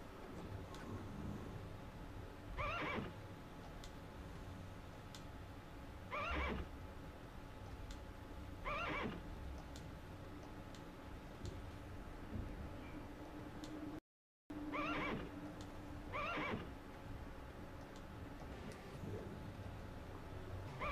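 A horse in the Legend of Dragoon video game whinnies about five times at fairly regular intervals, each call standing out over a steady, busy game soundscape.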